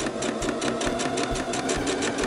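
A sewing machine stitching the seam of a fabric tote runs at a steady, rapid rhythmic whir, close and moderately quiet, continuous throughout with no voices.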